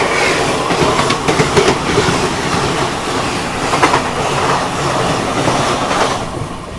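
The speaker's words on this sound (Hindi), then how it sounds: "बगल से ये क्रॉस हुई हावड़ा नई दिल्ली स्पेशल।" A Howrah New Delhi Special train crosses alongside, a steady loud rumble of wheels with rhythmic clickety-clack and faint squeals, heard close from a moving train with no talking.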